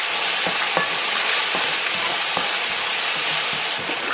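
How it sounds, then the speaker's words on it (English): Vegetables and carrot sautéing with seasoning in a hot pan, a steady close sizzle broken by several soft scraping stirs, with no voices. "So we're gonna let these veggies saute to get as much flavor extracted as possible from all this seasoning here."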